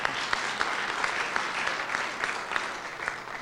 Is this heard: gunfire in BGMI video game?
no